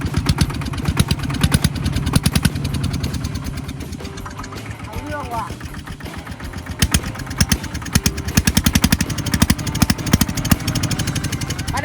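A Thai e-taek farm vehicle engine fitted with a TSK 4-valve exhaust runs loud and close, a rapid pulsing chug that rises and falls in revs throughout, with voices talking over it.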